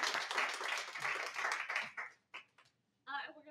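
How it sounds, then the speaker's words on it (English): Audience applause for the speakers at an energy talk on battery materials and recycling, a dense burst of clapping that fades out after about two seconds, then scattered short claps and a brief final flurry. "So big round of applause for our speakers again."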